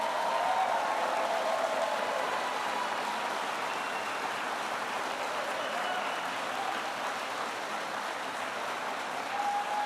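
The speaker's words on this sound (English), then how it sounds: "Let's give them a round of applause." Crowd at a political rally in Howell, Michigan giving sustained applause, a dense, even roar of many hands clapping at a distance, continuous for the whole stretch without talk.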